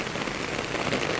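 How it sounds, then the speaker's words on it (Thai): Heavy rain falls in a bonsai garden, a dense, loud, uniform hiss of drops striking surfaces with no break, heard alone. "ฝนตกหนักเลยครับ"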